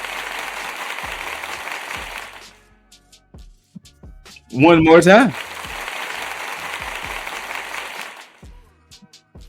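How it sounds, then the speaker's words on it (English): Sound-effect applause from an applause meter during a talk segment about an NXT Homecoming wrestling match: two long stretches of steady crowd clapping and cheering, broken by a short spoken phrase in the middle. "let me hit this applause-o-meter"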